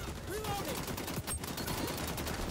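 An AK rifle fires bursts in the shooter game XDefiant, a dense, steady rattle of rapid shots continuing throughout over a busy game mix.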